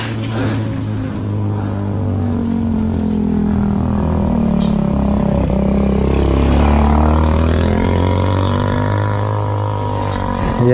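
A motorcycle passes during a group anniversary ride of bikers, its engine drone swelling louder toward the middle and easing off, heard continuously over the rider's own steady engine noise.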